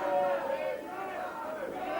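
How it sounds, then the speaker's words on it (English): Crowd at a 1983 New Zealand professional wrestling match, a sustained murmur of yelling and chatter from many people, steady and moderately loud without distinct individual shouts. "Crowd yelling to their heroes"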